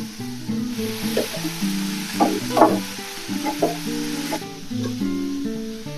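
Slit green chilies hit hot oil with turmeric in a pan for a Bengali radish-greens and puti fish ghonto, crackling and sizzling in bursts while being stirred, with a steady background hiss and no talking.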